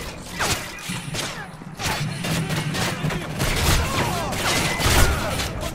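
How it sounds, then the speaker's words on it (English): Explosions and gunfire in Call of Duty Modern Warfare 3 Spec Ops survival mode, a busy stretch of repeated cracks, thuds and booms in rapid irregular succession, loud and close, with a low rumble beneath. "Random explosions are just frightening. Why are they randomly exploding?"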